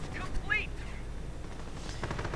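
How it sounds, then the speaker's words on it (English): Gunfire from Fallschirmjäger paratrooper infantry in a World War II strategy video game, a brief burst of rifle shots rising over a steady battle din early on, with the rest of the mix a continuous low rumble of combat. "Fallschirmjägers firing away."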